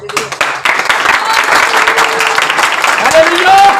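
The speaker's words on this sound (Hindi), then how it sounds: "यीशु के जलाल के ताली में जानिए जोरदार" Church congregation applause during a Hindi-language sermon, a short burst of clapping that swells and continues for a few seconds while a voice carries on over it.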